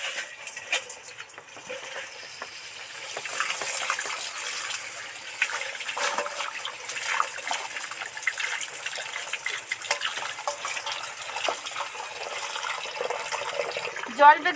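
Water is poured and sloshes over live crabs in a container, a steady splashing and trickling stream close by that swells and continues to the end.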